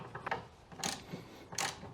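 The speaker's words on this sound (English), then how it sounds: "Let's use an adapter and a breaker bar." A breaker bar with an adapter works a bolt on a Porsche 911 during a coilover install, giving two sharp, bright ratcheting clicks about three-quarters of a second apart, with softer mechanical ticks between them, close up.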